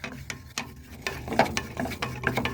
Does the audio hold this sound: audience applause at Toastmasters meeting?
no